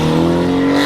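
Vintage Fiat Topolino 500 DS at a classic car rally in Veneto, its small engine revving loudly and steadily up close, a strong buzzing drone held for under a second.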